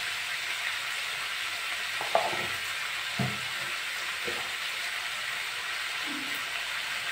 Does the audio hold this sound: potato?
yes